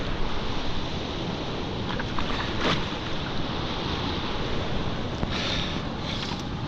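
Wind and waves on the open Southern Ocean at a rocky, murky surf spot, a dense continuous roar of gusting wind buffeting the microphone over rolling water, with a few brief louder bursts.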